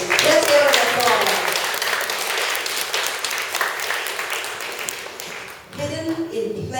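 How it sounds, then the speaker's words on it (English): An audience at a children's content festival press conference applauds an author, a dense burst of clapping that slowly thins out before a voice resumes talking at the end. "Let's give her an applause."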